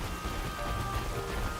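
Steady in-game rainfall in Pokemon Scarlet, an even, soft patter of drops with a constant hiss and no voices over it.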